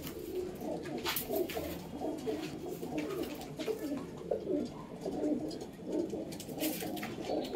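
Domestic breeding pigeons, a hen among them, coo steadily in a loft, a dense overlapping rumble of low calls close by with a few brief higher sounds above.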